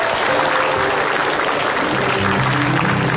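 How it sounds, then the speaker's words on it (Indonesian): Dense, loud clapping from a studio audience at an Indonesian comedy show, continuous for a few seconds with a murmur of voices mixed in. "Oke, tepuk tangan dulu dong"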